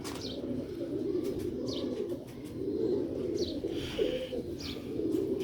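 Pigeons kept on a rooftop coo in repeated low, throaty phrases, with faint chirps and light rustles mixed in, moderately close.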